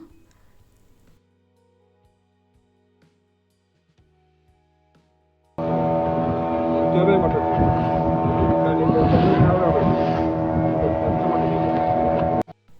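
A motorboat ride at Baga beach, Goa: after a few quiet seconds, a loud engine drone kicks in and holds steady for the rest of the ride, roughened by rushing wind across the microphone.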